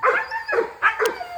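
A dog gives a series of about four short, close barks and yips in quick succession, loud and clear with no talking.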